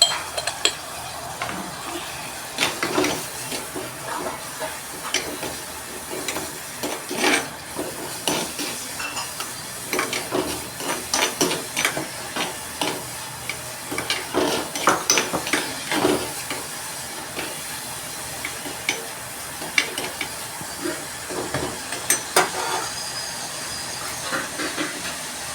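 Onions and aromatics sautéing with a little salt in a pan for fish curry (meen puli) give a steady, close hiss, broken by frequent sharp clicks and scrapes of a spatula against the pan.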